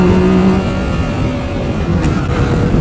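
A Yamaha MT-09 Tracer motorcycle accelerating hard, its loud, close engine roaring steadily for a few seconds with a brief rise partway through.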